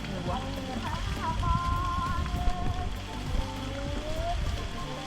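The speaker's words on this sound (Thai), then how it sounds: "ฝนตกจ้า" Steady rain pattering on a surface outdoors on the Khao Luang mountain in Nakhon Si Thammarat, a continuous close hiss with faint voices in the background.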